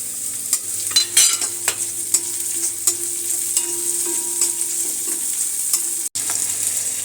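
Chopped onion and garlic sizzle with cumin in a pan, a bright steady frying hiss broken by repeated scraping stirs, close and fairly loud with no voice.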